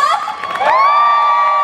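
A live audience at a stage event in Taiwan screams and cheers loudly and continuously, a dense wall of shrill voices and whoops that rises and holds to the end.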